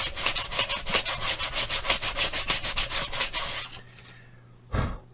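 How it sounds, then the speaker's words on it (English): Sandpaper rubs in quick, steady back-and-forth strokes over a cosplay prop part, close and scratchy, then stops before a single louder rasp near the end. "I'm going to take some sandpaper, and I am just going to rough up"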